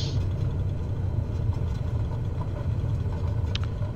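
Airliner rolling down the runway after landing in Microsoft Flight Simulator, brakes applied: a steady, loud low rumble of wheels and engines that holds evenly throughout, with a brief faint click near the end.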